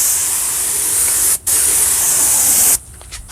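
A detail spray product is sprayed from a detail gun in two long, loud, steady hissing bursts separated by a brief pause, close to the listener, then it stops.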